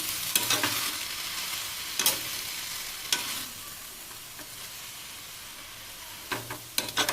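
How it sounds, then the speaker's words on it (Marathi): Amaranth greens sautéed in a pan, a soft steady sizzle under several distinct scraping strokes of a spatula stirring and turning the leaves, close and moderately loud, no voices. "आधी आपली सर्व भाजी चांगली खालीवर करून परतून घेऊयात"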